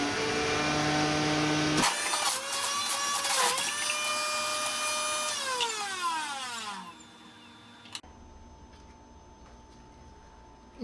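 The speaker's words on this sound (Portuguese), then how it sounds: "agora você liga a máquina e joga o que você quer aqui" Electric juicer motor whirs loudly as fruit and vegetables are fed in, a steady high-pitched whine with clattering pulp, the pitch dropping as the load changes, then winding down to a quieter hum after about seven seconds; no talking.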